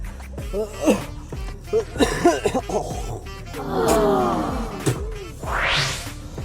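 A runner with a cold coughs repeatedly during an interval run, short harsh bursts with heavy breathing and a few laughs or groans between them, close and loud.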